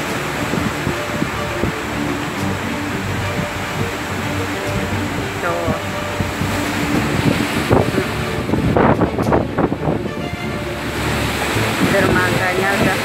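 Typhoon Hato in August 2017 on Lantau Island, Hong Kong: strong wind roars into the microphone over crashing waves and surf, loud and steady, with gusts and splashes building toward the end and a voice talking over it.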